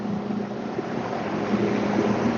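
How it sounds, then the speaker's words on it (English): A tractor passing gives a steady low engine rumble at moderate distance under broadband wind-like noise, with no voices. "Here comes that fucking tractor."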